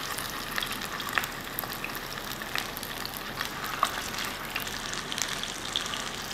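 Kofta fries in a pan with a constant soft sizzle and crackle, and a few light clicks of stirring rise above the hiss at moderate loudness with no talking.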